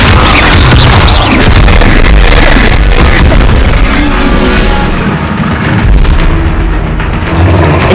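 An Incendio fire spell in Hogwarts Legacy during a battle with giant spiders and forest trolls: a sustained, loud roaring whoosh with booming low rumble and crackling bursts, continuing for several seconds without speech.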